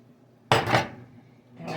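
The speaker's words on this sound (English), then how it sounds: "so I'm going to add the veggies" Vegetables drop into a pot of boiling chicken soup: a sudden loud clatter and splash for a moment, then fading back to a quiet simmer, with a second brief clink near the end.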